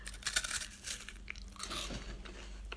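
Wafers being bitten and crunched close up, dense crisp crackles in bursts across the whole stretch with no talking.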